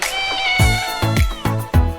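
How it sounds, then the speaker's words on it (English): A cat meows four times in a steady rhythm, each cry loud, close and clear, with no talking. "cat"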